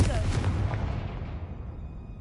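Confringo fire spell blast in the video game Hogwarts Legacy, a loud booming burst that rumbles and decays over about two seconds, with no talking.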